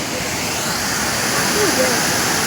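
Continuous roar of water pouring down into Bor lake, steady and fairly loud, with a faint voice briefly audible beneath it.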